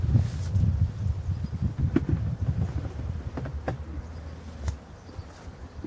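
Black honeybees, a local breed, buzz at an opened hive during inspection, a steady low hum with occasional louder passes of bees near the microphone and a few handling clicks, with no talk.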